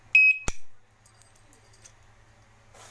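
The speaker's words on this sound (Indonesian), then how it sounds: "maka ini akan berfungsi sebagai alarm guys" A motorcycle padlock alarm lets out a sharp, loud electronic beep and a short burst of tones, followed by faint clicks and rattles.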